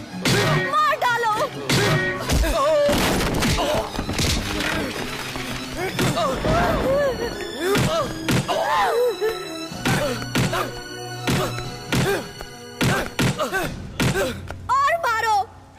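Heavy thuds and smacking blows land again and again in a South Indian movie fight scene, mixed with shouting voices and dramatic music throughout.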